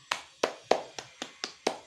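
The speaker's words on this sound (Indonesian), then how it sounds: "Tepuk tangan untuk kita semua." Seven sharp, evenly spaced claps of classroom applause in a primary school maths lesson, crisp and fairly close, with no talking over them.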